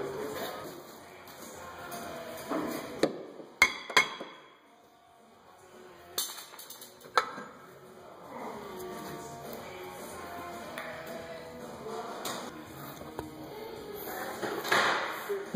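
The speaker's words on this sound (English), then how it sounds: "Might need to tap it off, a little bit of rust there." Metal tapping on a rusty rear brake rotor of a 2012 GMC Terrain during a brake pad change, a few sharp knocks around four and seven seconds, then quieter workshop handling and clanks.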